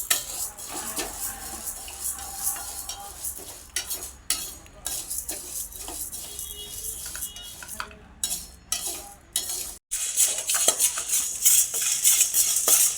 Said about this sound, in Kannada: ಈಗ ತೊಗರಿಬೇಳೆ ತೊಗರಿಬೇಳೆನೂ ಅದೇ ಕಲರ್ಗೆ ಕಪ್ಪಾಗೋವರೆಗೂ ಹುರ್ಕೋಬೇಕು